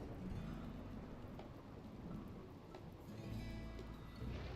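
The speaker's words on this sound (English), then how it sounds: "There we go, rainy thunderstorms." Steady rain with low rumbling thunder during a rainy thunderstorm in the video game Rimworld, faint and continuous, with a slight swell near the end.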